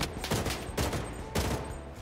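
Rapid gunfire in the shooter game Bloodstrike, three loud bursts of automatic shots fired close by in quick succession.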